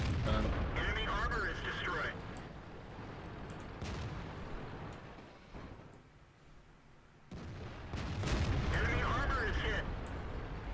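Rapid bursts of gunfire and heavy booming shots in the E50 Brawl tank game, loud in two clusters at the start and end with a quieter stretch between, mixed with background voices.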